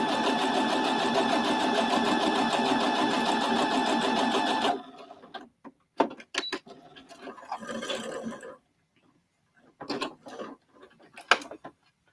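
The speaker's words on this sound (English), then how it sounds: "Okay, let me sew it again." Sewing machine stitching a quilt block, a steady close whirring run of about five seconds that stops, followed by quiet clicks and handling noises of fabric and parts.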